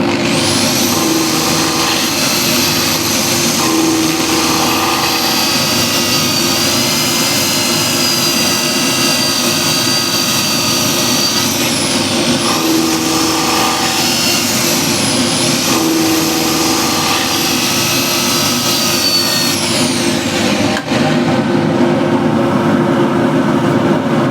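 Wood sanded on a spinning lathe for about twenty seconds of finishing before the 240 grit, a loud, unbroken whirring roar with a thin high whine on top, steady throughout with a slight shift near the end.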